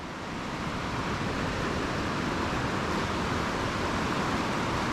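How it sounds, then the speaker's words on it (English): Clear Creek at French Gulch County Park runs high and fast, a dense, continuous rushing roar of water, close and steady with no voices. "And right now we have this rushing water."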